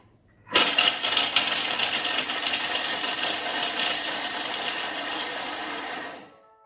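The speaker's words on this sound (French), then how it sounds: "on va mixer 5 secondes à vitesse 7" A Thermomix blends at speed 7 with its lid and measuring cup in place, making a loud, steady whirring roar that starts abruptly, holds for about five seconds, then winds down.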